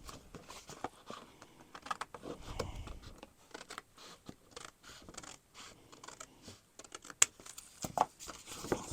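Scissors cut paper for a handmade blank journal, a run of close, irregular snips and rustles with crisp clicks and scraping paper, no talking.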